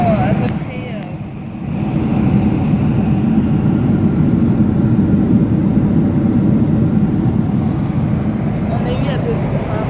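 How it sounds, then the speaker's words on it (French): Steady broadband roar inside an airplane cabin in flight on a trip to Florida, loud and constant, with a brief dip near the start and some faint talking under it. "on est toujours dans le même avion. On vole, regardez."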